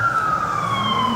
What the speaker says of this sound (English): Had a siren going off there, not sure what's going on.